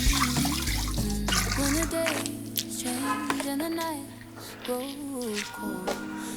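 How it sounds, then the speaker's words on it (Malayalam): Water splashes and pours into a pot on a wood-fired stove at first, then trickles on while a person talks and faint music plays in the background. "ഒന്നര പാത്രം വെള്ളം ഒഴിക്കുന്നേ."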